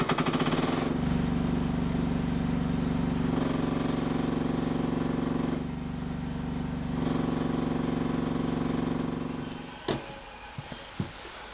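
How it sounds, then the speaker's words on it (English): Mini excavator fitted with an auger slewing left and right, a steady loud diesel engine drone with hydraulic load throughout, easing slightly mid-way, then dropping off near the end to a few clanks and knocks. "Let's see if it actually turns around with the auger on."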